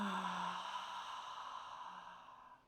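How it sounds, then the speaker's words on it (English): A single deep, audible HA breath exhaled during energy medicine yoga, a breathy sigh-like release that starts strong and fades over about two seconds. "Take another deep HA breath."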